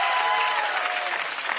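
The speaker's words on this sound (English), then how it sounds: "Please put your hands together to welcome" Sustained, dense audience applause for a teenage singer walking on stage, steady and fairly loud from start to finish with no voices over it.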